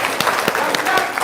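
Studio audience clapping at an Indonesian religious talk session, a dense patter of many hands with voices mixed in throughout the short burst.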